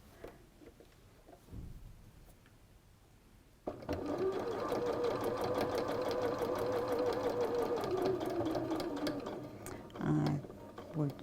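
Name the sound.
sewing machine stitching fabric from the edge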